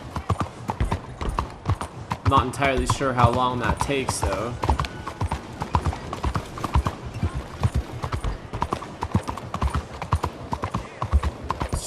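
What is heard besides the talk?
horse hooves clip-clopping while riding, from video game Red Dead Redemption 2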